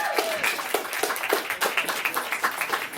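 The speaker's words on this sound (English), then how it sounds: "Everyone give Terry a round of applause." Audience applause at a Bernie Sanders 2016 campaign event in Beacon, a steady wash of many hands clapping with scattered louder claps, close and sustained throughout.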